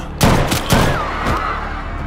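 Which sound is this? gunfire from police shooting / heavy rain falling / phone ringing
gunfire from police shooting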